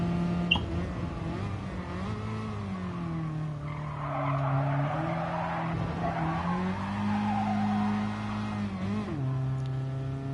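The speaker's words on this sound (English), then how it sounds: "Revving out through second a little bit longer there" A race car engine holds a long, steady rev through second gear up a hill during a time trial, with pitch bending gently and tires squealing, loud and continuous.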